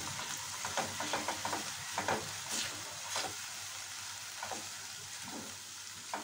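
Yogurt chicken with coriander is sautéed in a pan, soft stirring strokes and scrapes over a continuous low sizzle, quiet and close, with no one speaking.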